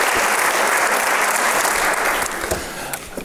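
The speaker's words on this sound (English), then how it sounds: "Let's give Rick Pearson a big round of applause" Audience applause for Rick Pearson at a forum of Democratic candidates for Illinois governor, steady and dense, then thinning slightly toward the end.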